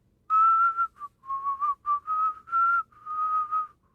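A voice in an audiobook imitating a footman's idle whistling, a short, clear, close tune of several bright notes and phrases alone against silence.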